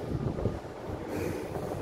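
Cool wind blows steadily across a large balcony over a Jeedimetla lane, a continuous low rushing buffet against the microphone with no voices.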